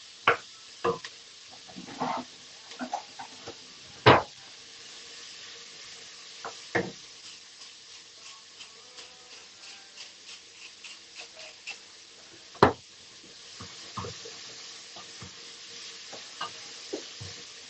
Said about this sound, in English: So just keep swirling it around till the onions are kind of see-through.